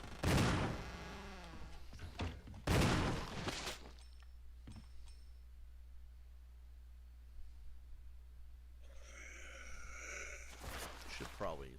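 Two heavy pistol shots bang out close together in Resident Evil Remastered, each loud with a ringing tail, followed by a quieter stretch of low hum, faint clicks and a voice talking near the end.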